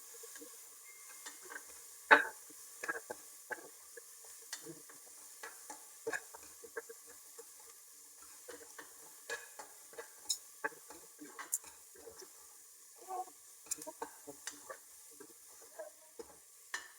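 Green chillies, chana dal and poppy seeds frying in a pan, a quiet crackle broken by scattered sharp ticks and pops at an irregular rhythm, with faint scraping as they are stirred.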